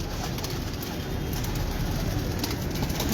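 Breeder pigeons on a Lahore rooftop coo softly amid a steady, dense outdoor rumble, with no voices heard.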